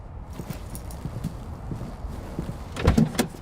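In a horror film, a locked door is rattled in a run of irregular knocks and clatters that grow into a louder burst of banging near the end.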